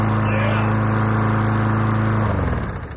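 A Troy-Bilt lawn mower engine, just filled with fresh oil, runs close and loud with a steady low hum and harmonic drone, then changes pitch and starts to fade near the end.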